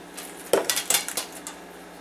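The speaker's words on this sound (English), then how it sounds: "I'm going to have to put another pan under here." Metal pans clatter and clink as one is slid beneath a baking dish of beef and eggplant parmesan, several sharp knocks in quick succession, close and fairly quiet.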